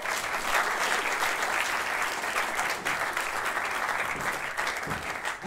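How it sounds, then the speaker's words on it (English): Applause from an audience at a live stage comedy show, sustained clapping that stays loud and dense the whole time, with no talk over it. "Give her a round of applause."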